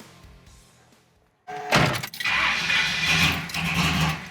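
A 1973 Pontiac Trans Am cranks briefly and its engine catches with a loud burst, then settles into a strong, rumbling idle close by.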